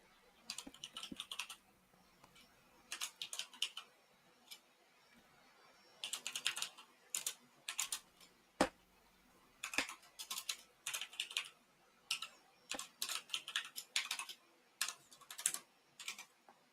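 Bursts of typing on a computer keyboard during a coding session, quick clattering runs of keystrokes broken by short pauses, close and fairly quiet with no talk over them.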